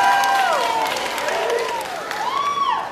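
A stand-up comedy audience breaks into loud applause mixed with cheering and rising and falling whoops, a dense crowd sound that fades slightly toward the end.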